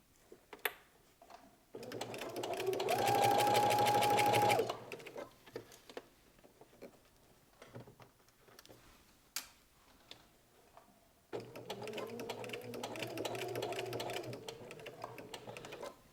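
A sewing machine runs close by in two steady bursts of rapid needle clatter as it stitches pajama fabric down to the point of a V. A quiet stretch with small handling clicks separates the bursts.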